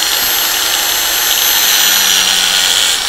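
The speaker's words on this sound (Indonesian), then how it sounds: "Saya nyalakan mesin gerindanya." Bench grinding machine running steadily while reprofiling the bevel of a knife blade, a loud continuous high-pitched whir and hiss with no pauses and no talking.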